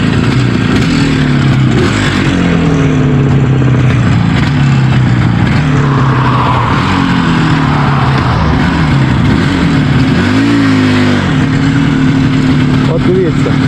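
A tuned IZh Jupiter 4 motorcycle engine runs loud and close in winter, its rough two-stroke idle rising and falling through several revs, with one sharp blip near the end.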